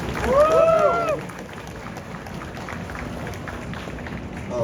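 A convention panel audience at a Star Wars: The Clone Wars session breaks into a round of applause, opening with a brief raised voice or cheer, then settling into a steady, moderately loud wash of clapping.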